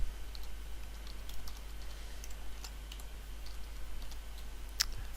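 Soft, sparse keystrokes tap out a file name on a computer keyboard. The clicks are quiet and unevenly spaced over a steady low hum, with one sharper click near the end.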